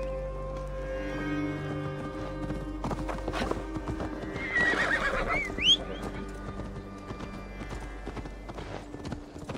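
Horse galloping in the video game Assassin's Creed Valhalla, steady clip-clop of hooves with a whinny midway, over a game music bed.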